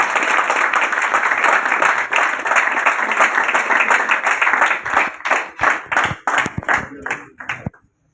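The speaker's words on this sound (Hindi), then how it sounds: "आपकी भरपूर तालियों में तशरीफ लाते हैं" An audience applauds to welcome a speaker onto a stage, dense loud clapping that holds for several seconds, then thins into scattered individual claps before fading out.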